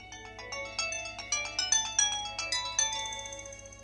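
A mobile phone ringtone or message alert plays a bright, quick melodic sequence of chiming notes, clear and close with no voices.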